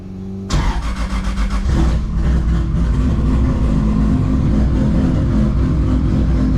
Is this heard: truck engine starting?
yes